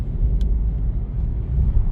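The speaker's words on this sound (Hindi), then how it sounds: "गाड़ी चला रहा हूँ" Car driving on a road in Saudi Arabia, heard from inside as a loud, steady low rumble of engine and tyres with no talking.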